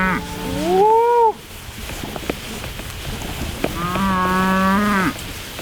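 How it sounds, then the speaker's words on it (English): A herd of cattle on a large grazing farm lows in two long, loud moos separated by a few seconds of quieter outdoor background. "look at these cattle. They're doing all the work."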